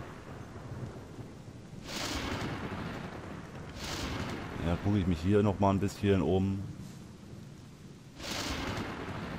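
A thunderstorm in the video game Gothic 2, with low rumbling thunder rolls swelling every couple of seconds under steady rain noise while someone talks in the middle.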